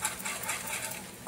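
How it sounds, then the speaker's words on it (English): A whisk stirs garlic in a bowl with a quick, steady scraping and swishing patter, close and moderately loud, with no voices. "I'm going to add my garlic. You know what? Let me use my whisk."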